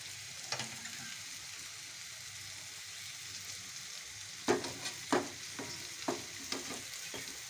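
Curry being sautéed in a pan before water goes in, a quiet continuous sizzle with a few louder scraping stirs of a spatula clustered in the second half, no one talking.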